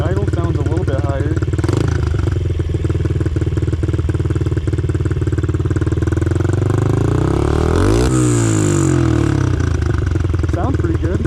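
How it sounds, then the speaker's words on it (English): Big-bore Honda CRF50 motorcycle running on jet fuel, its engine idling slightly high with a steady close-up putter and a brief rev partway through, while someone talks over it. "Started it in gear. Starts fine. Idle sounds a little bit higher."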